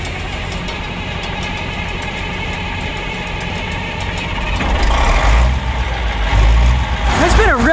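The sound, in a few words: tractor with Cummins 903 diesel engine running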